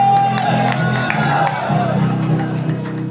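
A church congregation at a Thanksgiving Day service in Veruela, Agusan del Sur, claps and cheers in a steady, dense roar that fills the whole clip, with voices shouting within it.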